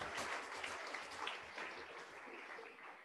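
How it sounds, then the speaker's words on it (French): A church congregation clapping together during a French–English service, a dense, fairly faint burst of applause that fades slightly over a few seconds, with no voices over it. "Put your hand together for the Lord."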